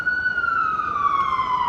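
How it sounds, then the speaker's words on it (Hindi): A passing ambulance siren downtown sounds as one loud, close tone sliding steadily downward over a low background rumble. "कहते हैं जी कि एम्बुलेंस गुजर रही है, मैं कहा एम्बुलेंस गुजर जाए।"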